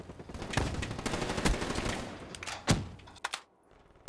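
Rapid gunfire rattles in Call of Duty Black Ops 3, with several bursts of sharp shots at a moderate distance, a few louder cracks standing out, then the firing cuts off into near silence.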